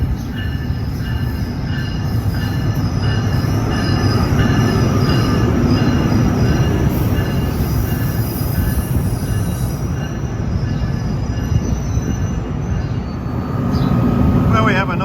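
Train 3857 at a New Jersey station, bound for Trenton, rolling past loud and close with a continuous rumble, wheel screech and clatter, and a brief high squeal near the end.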